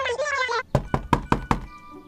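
A brief voice is followed by five loud, close knocks on a door in an even rhythm, then quiet.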